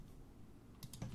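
A few quiet clicks of typing on a computer keyboard, faint key taps near the end over low room hum.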